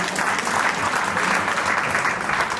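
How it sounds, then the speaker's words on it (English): A crowd at a national conference in Adelaide claps steadily and loudly, a dense applause that holds throughout. "give yourself a big hand of applause"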